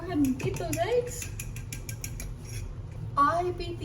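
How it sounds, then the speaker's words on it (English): A fork beats two eggs in a bowl with quick, rhythmic clinking taps at close range, while a person talks over it. "Grab a fork, go ahead and beat those eggs."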